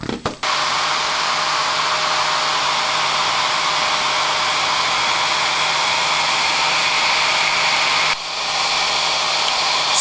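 A hair dryer set to low heat blows onto the screen of a Samsung Galaxy S4 during glass replacement, a loud steady whooshing whir that switches on at the start and dips briefly near the end, with no talking.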